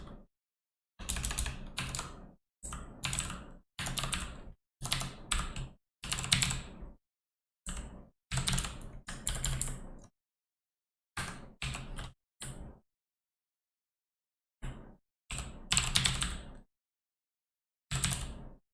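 Bursts of rapid key clatter on a computer keyboard come in short, close runs separated by pauses of quiet, with no talk.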